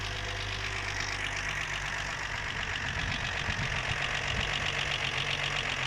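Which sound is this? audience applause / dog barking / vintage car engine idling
vintage car engine idling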